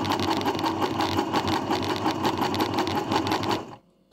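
A Janome sewing machine runs continuously in a steady, close, loud mechanical whir while finishing a buttonhole, with no talk, then stops abruptly near the end.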